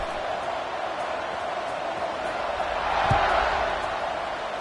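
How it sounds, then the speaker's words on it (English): A college football stadium crowd at an Ole Miss versus Michigan game buzzes after a score, a steady, broad murmur of thousands of fans that swells briefly with a thump midway, with faint talk underneath. "this crowd is buzzing after that last score"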